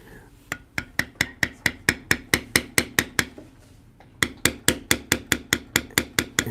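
Rhythmic, evenly spaced mallet strikes on a thumbprint tool stamping a leather knife sheath, crisp sharp knocks in a steady run, a brief pause, then another quick run of blows, close and loud.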